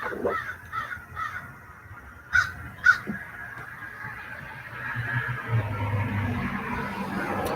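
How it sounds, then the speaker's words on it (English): Crows caw outdoors at moderate distance, a few scattered calls early on followed by two sharper, louder caws, over steady low background ambience and no speech. "the crows literally come right up here"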